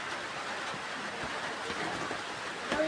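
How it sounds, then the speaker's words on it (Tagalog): Rain pours down in a steady broadband hiss, with a faint patter of drops on surfaces nearby. "Tignan nyo, nalakas ng ulan naman."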